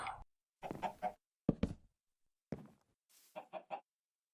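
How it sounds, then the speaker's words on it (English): Clucking chicken in a blocky building video game: several short, sharp clucks in separate bursts, spaced by brief silences, with no talk over them. "Chicken."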